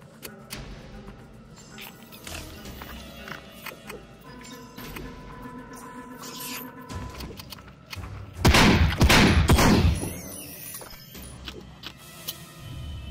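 Shotgun blasts in The Light Brigade, a first-person war shooter, come as a loud cluster of close booms in the middle of the stretch, over a busy game backdrop with scattered clicks and ticks.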